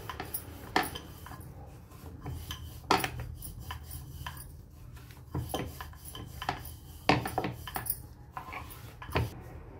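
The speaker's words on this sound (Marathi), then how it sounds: "याला लाटून घेते आता" A rolling pin works stiff puri dough on a board in a home kitchen, giving repeated soft rubbing strokes with light wooden knocks and clacks at irregular intervals, close-up and without speech.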